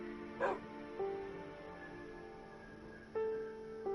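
A Minecraft dog gives a short yip and a few clipped, tonal barks with quiet gaps between, fairly faint against a soft game background.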